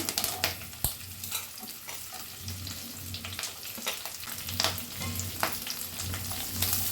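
Green chillies and onions fry in a pan for a special chicken side dish, a steady close sizzle with scattered sharp crackles and occasional stirring scrapes throughout, no voices.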